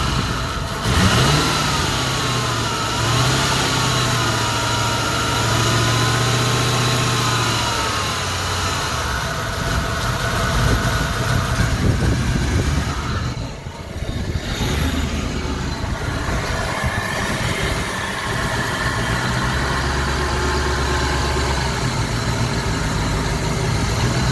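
A Ford Foxbody engine runs loud and close with a cold back cylinder, revving up and down in surges before settling into a rough, steady idle.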